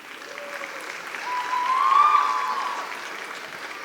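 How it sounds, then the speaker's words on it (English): Crowd applause at an India Day 2025 speeches and awards event, a broad wash of clapping that swells toward the middle and eases off, with faint cheering tones over it. "a huge round of applause for all the volunteers and executive committees"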